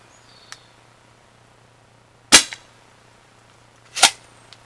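A Snapbow dart blaster fires darts on a range, giving two sharp snapping shots a couple of seconds apart plus a faint click earlier, close and clear with no talking.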